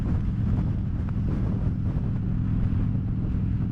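Steady, loud wind roar buffets the microphone of a Kawasaki Ninja 400 motorcycle rider cruising on a highway, a dense low rumble running unbroken with no voices over it.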